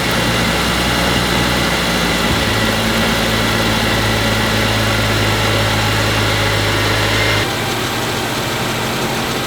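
A Mercedes engine idles steadily after its belt pulleys were replaced to cure a squeak, giving a loud, close, continuous mechanical drone whose low hum changes tone near the end.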